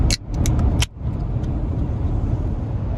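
A large van cruises down a road, its steady engine drone and road rumble filling the clip, with a few brief clicks and rattles at the very start.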